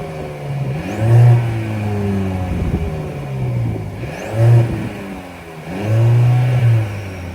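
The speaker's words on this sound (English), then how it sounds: "that was the sound of the 2-liter turbocharged 4-cylinder engine sold by Mercedes for the" A 2024 Mercedes E350 with a 2-liter turbocharged four-cylinder engine revs up close from idle three times. Each blip rises and falls smoothly over a steady idle hum, with no talking.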